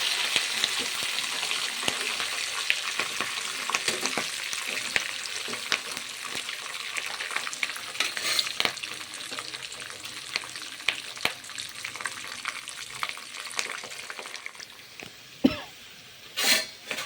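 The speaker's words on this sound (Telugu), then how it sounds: "కరివేపాకు బాగా ఫ్రై అయింది కదా," Curry leaves, green chillies and dried red chillies frying in oil for lemon rice pulihora, a steady close crackling sizzle with occasional stirring scrapes and a cough near the end.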